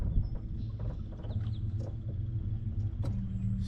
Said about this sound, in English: Vehicle ruins my perfect landing.